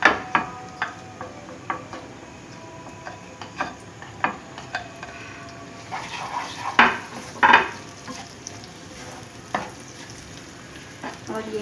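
Light-browned onion and spices fry in a pot for maash daal with palak, a steady sizzle broken by repeated clinks and scrapes of a stirring spoon against the pan, close and alone.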